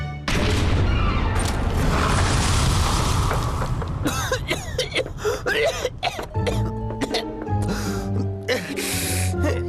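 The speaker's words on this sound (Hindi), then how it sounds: "एक छोटा सा धमाका ही तो था।" A small explosion sound effect from a TV show bursts loudly as a broad roar, then trails into scattered crackling debris and cough-like gasps before a tonal musical sting takes over.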